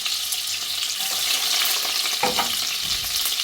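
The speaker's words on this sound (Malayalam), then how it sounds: "നമുക്ക് ആ മട്ടൻ കറി അതിലേക്ക് ഒഴിച്ചു കൊടുക്കാം." Mutton curry hits a hot pan and sizzles and crackles loudly and steadily, with a splashy stirring burst partway through, close to the microphone.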